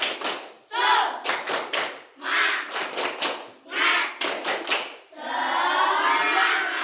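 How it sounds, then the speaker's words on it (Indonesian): Schoolchildren in a classroom perform a rhythmic spirit clap, bursts of sharp claps in quick patterns alternating with group chanting, then a sustained shout at the end. "Marilah kita melakukan tepuk semangat supaya lebih semangat dalam belajar"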